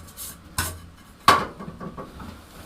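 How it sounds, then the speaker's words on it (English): A metal frying pan from a camping cook kit clatters in a remote mountain hut, with two sharp clanks of handling a short moment apart and faint rattling afterward, close by with no talk. "A frying pan. Oh. Not the cleanest of frying pans."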